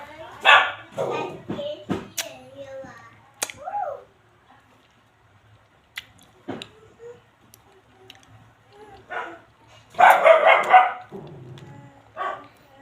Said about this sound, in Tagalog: ingay talaga ng alaga kong aso dito